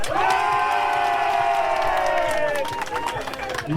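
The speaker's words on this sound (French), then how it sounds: "est-ce qu'on va faire du bruit pour elle aujourd'hui? Allez, on y va, on applaudit." Crowd at an outdoor car gathering cheering and clapping for a restored Citroën C3, with loud sustained shouts and voices over scattered applause.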